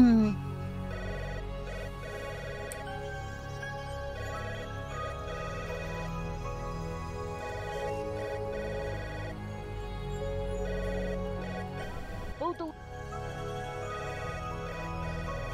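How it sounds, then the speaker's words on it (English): An apartment intercom rings in a repeated electronic chime pattern, moderately loud and continuous. "That damn intercom is... You know what? Let it ring."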